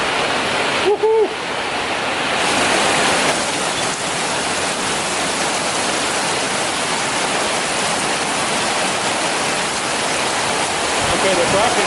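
A river after a thunderstorm rushes in a loud, constant broadband roar that fills the whole stretch, with a brief voice early on.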